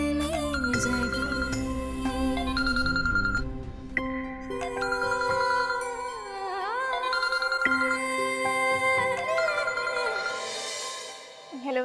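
An electronic phone ringtone plays a bright melodic chiming pattern over a soft music bed, loud and continuous throughout, with no talking.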